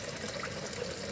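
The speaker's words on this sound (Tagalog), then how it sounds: "Meron pa rin nakadaloy na tubig pero hindi na masyado." Seawater flowing in at high tide near a home in the Philippines, a steady low rush and gurgle of moving water running continuously without a break.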